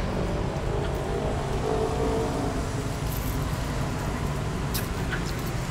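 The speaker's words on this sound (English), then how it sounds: "Just ignore the sound of the cars." Road traffic from passing cars carries over a nature walk, a loud, unbroken roadway rumble and wash of tyre noise that fills the whole stretch.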